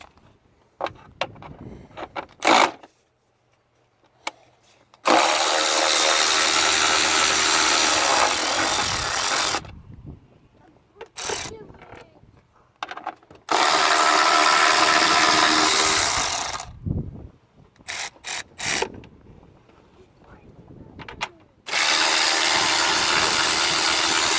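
A ratchet turns a 10mm socket on the radiator fan bolts of a 2000 Toyota Corolla, heard as long loud bursts of rapid mechanical clicking broken by quieter gaps with clinks and handling noises.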